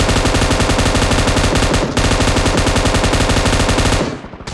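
Loud, continuous automatic gunfire from PUBG Mobile, a rapid unbroken stream of shots with one brief gap near the middle, tapering off at the end.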